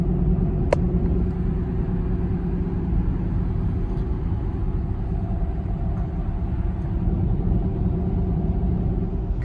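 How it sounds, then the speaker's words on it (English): Audi e-tron electric car cruising on the road, a steady close low rumble of tyre and road noise throughout, with no engine note and no talking. "Cruising now in the e-tron"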